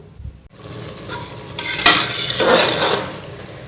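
Close, steady bubbling and hissing of water boiling hard in a loosely covered pressure cooker, rising after a brief quiet start and continuing without any talk.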